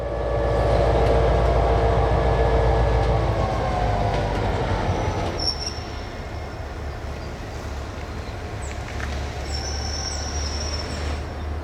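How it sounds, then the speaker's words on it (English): NX-10 diesel locomotive switching loaded center-beam rail cars near the Chippewa spur, a heavy engine rumble that eases off midway, followed by faint clanks and brief high wheel squeals. "Once tied onto the two loaded center beams, the NX-10 pulls ahead of the switch and the Chippewa spur."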